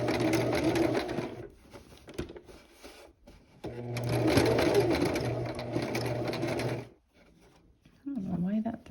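A sewing machine stitching bias tape onto a shirt neckline, running in long steady whirring bursts with a short pause between, close and loud, with a voice talking briefly at the end.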